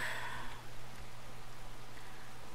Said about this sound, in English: getting on the road while it's raining, but who knows when this is going to let up